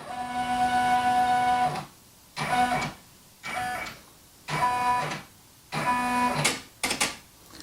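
A machine embroidery unit traces a design around the hoop on a onesie with a number 10 needle, making repeated loud whirring, printer-like motor runs in bursts of about a second with short pauses between them.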